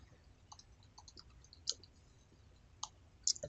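A computer mouse clicks sharply a few times at irregular intervals, close and fairly quiet, with light keyboard-like taps and a faint room hum between clicks.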